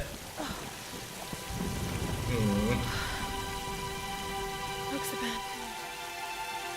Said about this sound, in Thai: ฝนตกด้วย